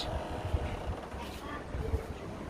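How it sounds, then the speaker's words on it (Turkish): Strong wind on the Black Sea coast buffets the microphone in low rumbling gusts, with a faint voice underneath and a broad airy roar throughout. "Felaket rüzgar var"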